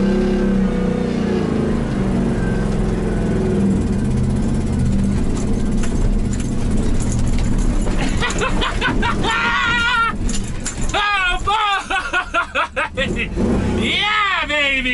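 1985 Chevy K10 truck climbing a rocky hill off-road, its engine idling then revving hard under load with rattling and knocking, while someone talks and cheers over it in the later part.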